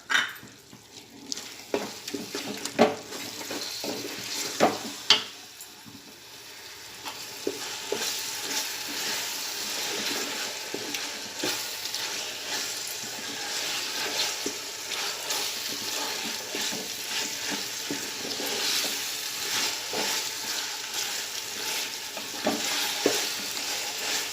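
Green masala stirred into melted tomatoes frying for mutton biryani, a dense, steady sizzle with repeated scraping and tapping of a spoon against the pot, close and unbroken by speech.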